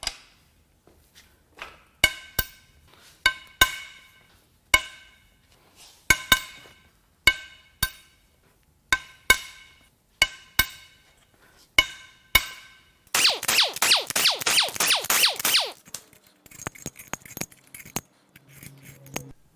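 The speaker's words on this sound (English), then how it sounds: "Now we can crack these head bolts loose." A breaker bar cracks loose cylinder head bolts on a damaged 3.5L EcoBoost V6 from a 2012 Ford F-150, giving a series of sharp metallic cracks and clinks at regular intervals, followed by a burst of rapid ratcheting.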